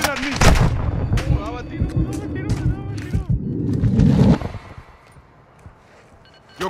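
Gunfire in the DMZ shooter game: rapid, loud bursts of shots and heavy booms packed into the first four seconds, up close, with players talking and shouting over them before the noise drops away to near quiet.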